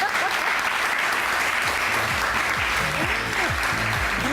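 A live audience at a talk event bursts into loud, sustained applause, dense hand-clapping that fills the room throughout with a few voices calling out beneath it.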